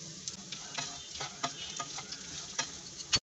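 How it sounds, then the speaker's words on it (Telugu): Green peas and Bengal gram frying in a tempering for green pea masala, a steady close sizzle broken by light stirring clicks and scrapes, ending in one sharp knock. "తాలింపులో బఠానీలు, శనగలు వేసిన తర్వాత 4-5 నిమిషాలు వేయించుకుంటే సరిపోతుంది"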